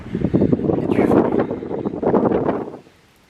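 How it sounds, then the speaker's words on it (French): Wind blowing outdoors, rushing against the microphone in a steady broadband roar with small surges, then dropping away abruptly near the end. "Et du vent."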